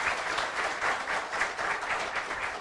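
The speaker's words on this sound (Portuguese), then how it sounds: "Eu queria mais uma salva de palmas para o professor" An audience at a personal development lecture claps for the speaker in a continuous, fairly even round of applause at moderate volume, with a faint rhythmic pulse in the clapping.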